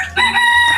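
A village rooster crows once, loud and close, in a single strained cock-a-doodle-doo that fills the short moment alone.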